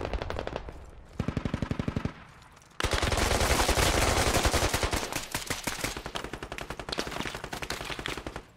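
Rapid automatic gunfire from the military shooter game Squad, loud sustained bursts with sharp repeated shots, a brief lull, then heavier continuous firing and scattered volleys to the end.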